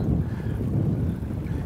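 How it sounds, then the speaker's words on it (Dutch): A steady low rumble of a catamaran moving across the water of the Zevenhuizerplas lake, with wind blowing over the microphone. "dat is weer die katamaran, die snellere boot"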